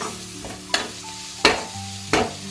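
Curry leaves, mint and coriander being stirred in a frying pan for chicken dahi dum biryani: three sharp spatula scrapes against the pan over a low background sizzle.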